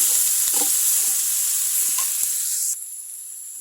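Steady loud sizzling of chopped banana flower frying with mustard seeds in a hot pan, a few soft stirring clicks, the hiss dropping slightly near the end.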